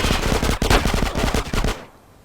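Rapid automatic gunfire in GTA San Andreas, a loud burst of shots lasting under two seconds before cutting off into quiet.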